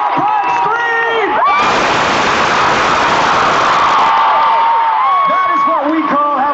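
A huge stadium crowd at a concert in Croke Park, Dublin, erupts into sustained screaming and cheering that swells to a loud roar and holds for several seconds before easing, with the announcer's voice over the start and end.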